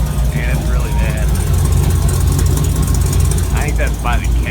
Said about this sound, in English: Sounds pretty good. Other than this exhaust leak, and it's really bad.